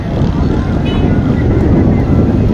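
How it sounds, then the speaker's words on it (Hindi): Strong wind with light rain outdoors under cloudy skies, heard as a steady, loud roar of wind buffeting the microphone that continues unbroken throughout. "हल्की हल्की बारिश, तेज हवा, मौसम खुशगवार है।"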